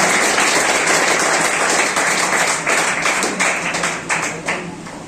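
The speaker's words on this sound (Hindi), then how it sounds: "जोरदार तालियों से स्वागत करता है" Crowd applause at a Teacher's Day school celebration in India: dense, continuous clapping from many hands, loud and steady throughout, thinning slightly toward the end.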